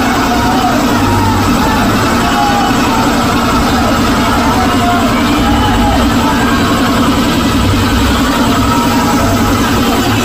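A 2016-2024 Toyota Fortuner engine idling after its EGR valve and intake manifold were cleaned, a steady, loud, even low hum that runs unbroken throughout.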